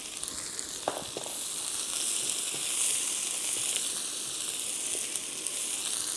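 Sliced onions go into hot oil with garlic for a Kalanchi fish-head curry, sizzling steadily and closely throughout, with a few sharp crackles early on and no talk.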